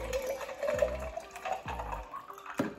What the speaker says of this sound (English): filling up the water bottle.